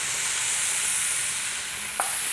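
Mango pieces sizzle loudly in a hot frying pan, a steady, close frying hiss that runs throughout, with a brief sharp crackle near the end.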